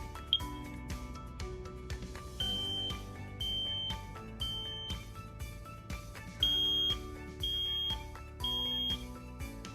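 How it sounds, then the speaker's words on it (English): A working home smoke alarm, set off by its test button, sounds repeated high-pitched electronic beeps in bursts over a steady musical background, fairly close and clear. "This is the sound that a working smoke alarm makes."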